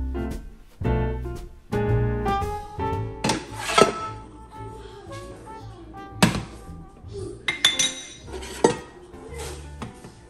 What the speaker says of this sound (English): I'm just getting my pans ready